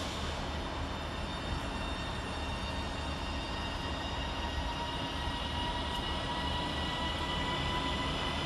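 Two Northern class 331 electric units, 331015 and 331012, pull out of Bolton railway station on a thick foggy day, a steady, loud rail rumble with an even wash of wheel and motor noise throughout.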